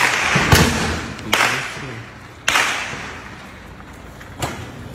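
Four sharp gunshots crack out at irregular intervals amid heavy smoke in Rio de Janeiro, each echoing and fading over a low background rumble.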